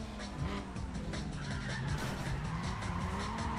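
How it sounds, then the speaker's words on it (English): Volkswagen Golf R32 engine in Need for Speed ProStreet, revving steadily with tire squeal and skidding, a continuous moderately loud race-car drone with shifting pitch throughout. "Oh, that Golf R32 sounds so good."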